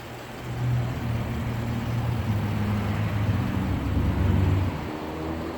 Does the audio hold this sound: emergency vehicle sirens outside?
no